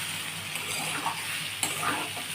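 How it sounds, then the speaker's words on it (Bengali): Potatoes and green chilli dry-fry in a pan with no water added, a steady close sizzle and crackle with a couple of faint clinks. "এতে জল দেবো না, এটা শুধু একটু ভাজা ভাজা হবে।"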